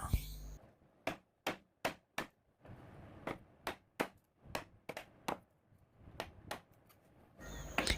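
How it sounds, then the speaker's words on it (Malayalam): Sharp, evenly spaced knocks of a mallet driving a chisel into wood during hand carpentry, about a dozen strikes in a steady rhythm, close and loud, with quieter scraping between blows. "ഇനിയും അല്പം വലിയ ഉളി ഉപയോഗിച്ച് ഇവിടെയും അങ്ങനെ തന്നെ പണിഞ്ഞു പോകും."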